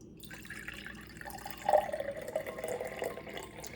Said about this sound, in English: I'm actually just gonna fill this to the brim